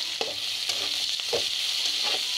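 Catla fish pieces frying in hot oil, a steady bright sizzle throughout with a few soft scrapes and stirs breaking through, close and alone with no voices.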